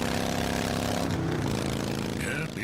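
Motorcycle engine rumbling loudly and steadily throughout, a droning exhaust note that buries a radio commercial playing beneath it.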